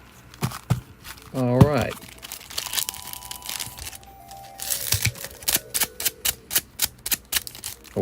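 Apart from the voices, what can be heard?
scissors snipping open a Pokemon card pack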